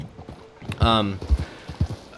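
A Chestnut Pinto Kentucky Saddler in Red Dead Redemption 2 clip-clops along in an even hoofbeat rhythm, with someone talking over the steps.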